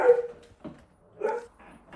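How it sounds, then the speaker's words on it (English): A few short dog barks in bursts, one at the start and another about a second later, fairly muffled and moderately close with quiet gaps between. "my dog keeps barking at people outside"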